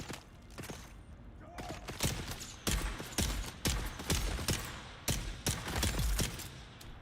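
Gunfire in a video game, a series of sharp shots spaced out over several seconds, moderately loud, with a voice heard faintly between them.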